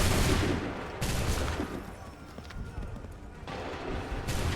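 A musket volley fires on command in an Assassin's Creed 3 battle, loud crackling bursts arriving in waves with heavy rumbling between them, and a voice barely heard underneath.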